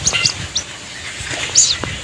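A baby bird found by village children gives short, high, thin chirps in a few scattered bursts, near and fairly clear over faint background noise.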